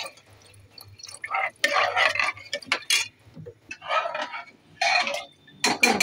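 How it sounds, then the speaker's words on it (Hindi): Water from a glass is poured into a pot of roasted rice for khichdi, heard as several splashy, gurgling bursts separated by short pauses, close and moderately loud. "एक गिलास और डाल देते हैं पानी का।"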